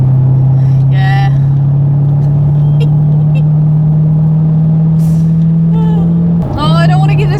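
A 2010 Jaguar XKR's engine drones steadily and loudly while driving, a constant low hum throughout, with brief bits of talk and clatter near the end.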